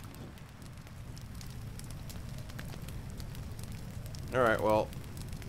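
Fire crackling and burning during rain in Zelda: Breath of the Wild, a steady wash of rain and flame noise throughout with a brief spoken voice near the end.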